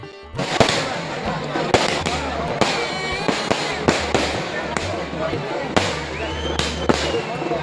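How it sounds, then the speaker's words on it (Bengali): Fireworks crack and burst at a night-time Chanchar celebration on the eve of the Dol festival, set off in a field beside a temple, sharp bangs recurring every second or so over a constant crowd hubbub. "পাশের মাঠে বাজি পোড়ানো উৎসব চলছে"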